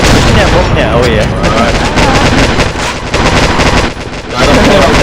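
Rapid automatic gunfire and bursts in a shooter match, where a bomb gets planted. It is loud and nearly continuous, with short gaps, under excited game chatter.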